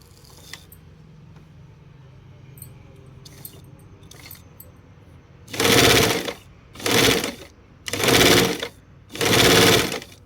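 A sewing machine stitching gathers with a long stitch, four loud close bursts of rapid mechanical stitching separated by short pauses, following quieter handling sounds.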